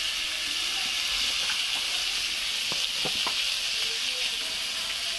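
Bitter gourd frying in a pan with salt and turmeric, a steady close sizzle with a few soft stirring knocks partway through, no talking.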